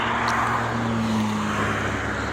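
A 2004 Fiat Marea 1.6 with a 103-horsepower engine drives at high speed on the North Ankara ring road, a loud, steady engine drone with heavy road and wind roar inside the cabin.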